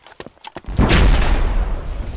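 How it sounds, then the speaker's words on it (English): Grenade detonation in the military game Arma, a few faint pops followed by one loud close blast with a long rumbling decay, alone without talk. "Throw another grenade over there"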